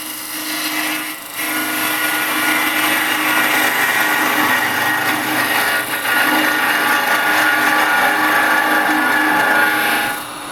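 A wood lathe spinning at 1500 RPM turns a resin bowl while a carbide chisel cuts, giving a loud, steady whir and scraping hiss that runs continuously, with a brief dip near the start.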